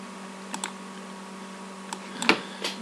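A computer keyboard clicks as a name is typed, a handful of sparse, crisp keystrokes over a steady low hum.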